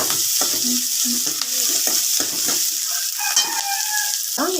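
Onions sautéing for a Tamil shark fish curry crackle with a steady broadband sizzle in a pan, while a spoon stirs and scrapes in repeated close strokes. Rooster-like chirps rise briefly near the end.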